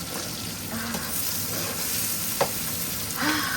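Onion frying in hot oil for homemade chilli chicken, a steady dense sizzle with occasional stirring scrapes and small clinks, close and continuous, with no talking.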